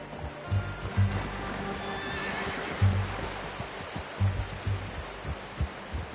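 Horse in the Red Dead Redemption 2 video game, snorting and whinnying with soft, irregular hoof clops and low thuds repeating over several seconds against steady outdoor ambience.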